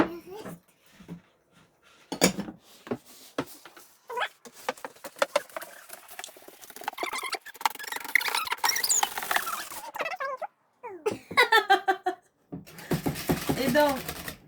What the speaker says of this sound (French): on va aller mélanger ça avec notre fouet